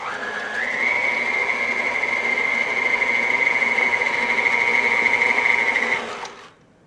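Electric mixer blending butter, sugar and vanilla for thumbprint cookie dough, a steady high motor whine running for several seconds before winding down, close and loud with no talk.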